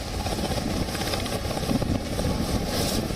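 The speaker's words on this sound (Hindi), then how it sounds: "यह है बॉर्डर सिक्योरिटी फोर्स का हेलीकॉप्टर" A Border Security Force helicopter at a Delhi Police training centre near Najafgarh gives a steady, loud rotor and engine roar that carries on unbroken, with no voices over it.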